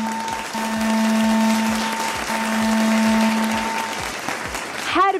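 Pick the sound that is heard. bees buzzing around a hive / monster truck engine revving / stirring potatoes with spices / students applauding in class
students applauding in class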